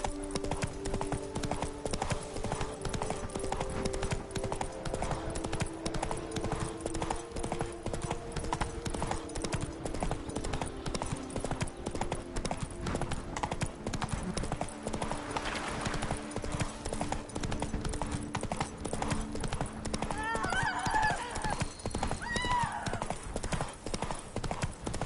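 Hooves of a horse clip-clop steadily at a gallop through The Witcher 3, a continuous rhythmic pounding that runs the whole stretch, with game music and a few brief voices and effects layered over it.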